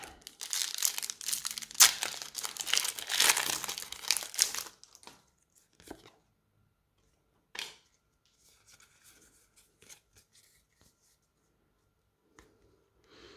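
A foil Pokémon booster pack wrapper being torn open close up, several seconds of loud crinkling and ripping followed by quiet stretches with a few soft rustles and scattered handling noises.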